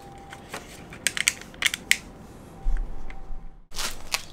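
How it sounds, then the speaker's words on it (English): Motorcycle rear stand being unpacked from its packaging: crinkling plastic, rustling and a few sharp snaps and knocks, close and irregular, ending in a louder burst of rustling. "So we are going to take this out of the packaging and get started here."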